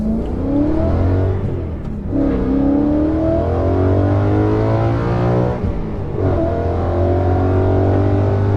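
A BMW E92 M3 engine pulls hard from inside the cabin, its note climbing steadily through the revs, dipping briefly at two gear shifts and then rising again, loud and continuous.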